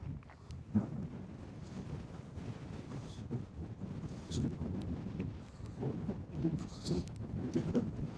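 Strong wind blows across an exposed hilltop on the Great Sugar Loaf, gusting and buffeting the microphone in an uneven rumbling roar that swells and eases over several seconds.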